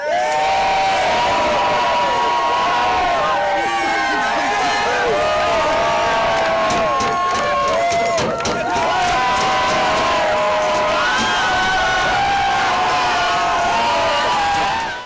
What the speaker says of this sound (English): Can I just get everyone to like cheer really loudly once?